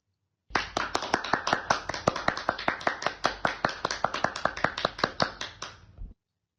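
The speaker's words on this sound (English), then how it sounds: "Clap hands for him, please." A small class claps for a student in a classroom, a crisp, regular run of about twenty-five sharp hand claps in steady rhythm, close and distinct, starting abruptly and stopping cleanly.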